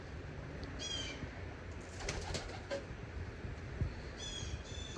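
Racing pigeons, cock birds in a loft, give soft, faint coos, with a few short wing flaps and light rustling in between.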